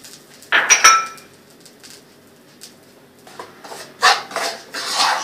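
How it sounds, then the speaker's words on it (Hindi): A spoon scraping and clinking against a pan while brown sugar is stirred into a tablespoon of melted butter, in a few short bursts of metallic scraping separated by near silence. "शुगर को इसके अंदर मिक्स करते हैं, ब्राउन करते हैं, जरा सी ब्राउन करते हैं"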